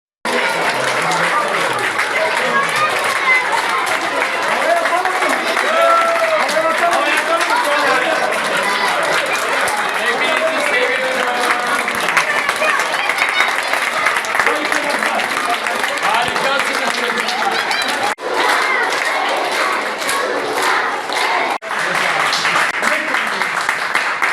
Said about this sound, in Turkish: koridorlara sıralanan öğrencilerinin alkışları ve sevgi dolu tezahüratlarıyla karşılandı